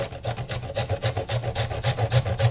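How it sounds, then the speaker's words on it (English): Coconut is rubbed across a hand grater in quick, even strokes. The result is a steady rhythmic rasping, close and moderately loud, about six scrapes per second. "So I'm going to grate it."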